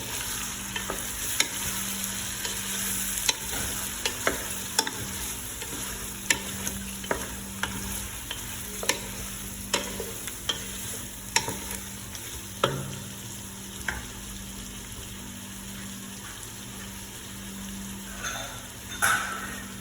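Food frying in a pan is flipped and stirred, a steady close sizzle punctuated every second or so by sharp utensil scrapes and taps against the pan, with no talk.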